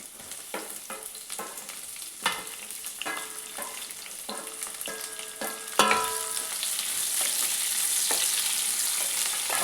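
Okra and onion frying in a pan, a steady sizzle with scattered clicks and stirring scrapes, the sizzle growing louder and denser partway through as the onion goes in.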